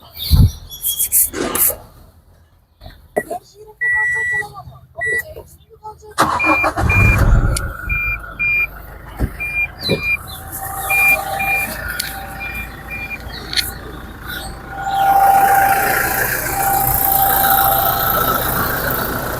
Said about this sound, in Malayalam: നമുക്കിനി ഈ വാഹനം സ്റ്റാർട്ട് ചെയ്ത് ഇതിൻ്റെ സൗണ്ട് ഒന്ന് കേൾക്കാം